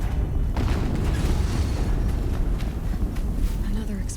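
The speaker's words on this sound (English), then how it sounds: "Another explosion." In Horizon Zero Dawn, an explosion booms low and heavy over a rumbling, busy battle backdrop, with scattered thuds and pops continuing through the stretch.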